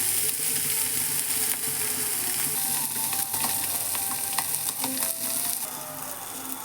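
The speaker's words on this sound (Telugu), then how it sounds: "ముందే కొంచెం ఆయిల్ వేసుకోవాలి. ఇలా ఫ్రై అవుతుంది. కొంచెం స్లోగానే ఫ్రై అవుతుంది" Small fish frying slowly in hot oil in a pan produce a continuous close sizzle and crackle, with occasional light stirring clicks and scrapes.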